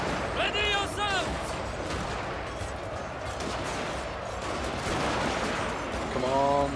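Scattered musket and pistol fire in the video game Total War: Fall of the Samurai sounds in distant bursts under a steady battle din, while someone talks over it.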